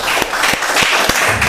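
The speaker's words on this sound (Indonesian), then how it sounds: "tepuk tangan dulu dong." Brief burst of applause at a military command talk event, several hands clapping loudly and close, with a few sharper individual claps standing out over the dense patter.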